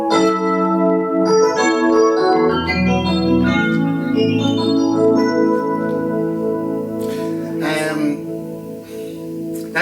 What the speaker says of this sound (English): I've chosen our second electric piano, which is a very, very typical 80s Yamaha DX7